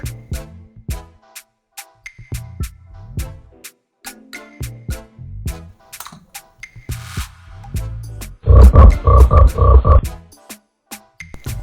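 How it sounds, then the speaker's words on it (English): A frog croaks in repeated short, throaty calls, with a louder burst of fast, close croaks near the end. "Frog"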